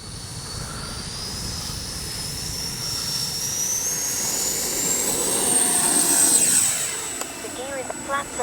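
A Freewing A-4 Skyhawk 80mm electric ducted-fan RC jet takes off, its rising turbine-like whine sweeping upward and swelling loud as it accelerates past, with outdoor rumble and a person's voice nearby.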